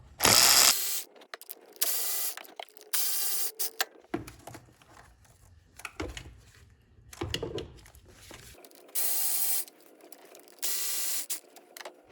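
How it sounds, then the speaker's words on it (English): A small 8 millimeter wrench ratchets a valve cover bolt loose on a Jeep Grand Cherokee 5.7L Hemi, giving close, crisp clicking bursts separated by quiet pauses. "I'm just gonna stick a little 8 millimeter wrench on here. It'll take a little bit, but that should break it loose."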